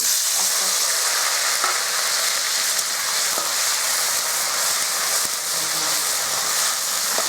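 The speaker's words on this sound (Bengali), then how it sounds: "এবার তেলটা হয়ে গেছে এবার এখানে আমি টমেটো আর আদা বাটাটা দিয়ে দেবো" Tomato and ginger paste fries in hot oil, producing a loud, dense, even sizzle like steady rain, with faint stirring clicks and no voices.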